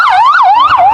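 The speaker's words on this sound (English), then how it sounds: "At Elmhurst Hospital, the epicenter of the crisis, ambulances flood in." An ambulance siren wails loud and close at Elmhurst Hospital in New York during the COVID-19 crisis, its pitch sweeping up and down in a fast, steady cycle.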